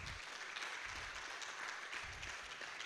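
Audience applause fills the whole stretch, dense continuous clapping from a crowd at a gathering, steady and fairly loud with no speech over it.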